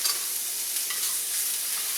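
Beef strips sizzle in a hot pan, a soft, steady frying hiss with faint stirring, heard close up with no talking.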